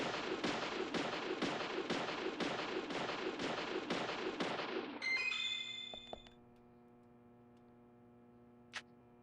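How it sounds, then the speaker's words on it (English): Gunshots fired inside a police station in the video game Deadly Premonition: a rapid, even series of about ten sharp cracks, followed by ringing metallic tones, a couple of faint clicks and one last short report. "I'm just shooting shit in a police station"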